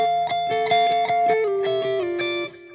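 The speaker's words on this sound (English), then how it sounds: "you do need to have a sound that's just slightly gained up and not totally saturated with distortion" A lightly overdriven electric guitar plays a short chordal riff of strummed notes, slightly gritty but mostly clear, ending on a held chord.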